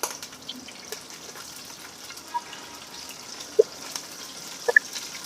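Cumin seeds sizzle in hot oil in a pan, a steady soft hiss broken by a few sharp pops and crackles toward the end, with no voices.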